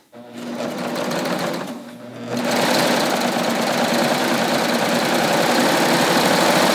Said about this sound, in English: I'm going to just stitch a 4 thread on this knit